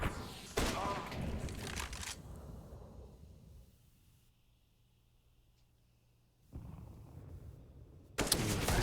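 Gunfire in a Counter-Strike match on Mirage between Team Liquid and NiP, with an AWP sniper rifle in play: a cluster of sharp shots early, then a long quiet stretch and another loud crack at the end.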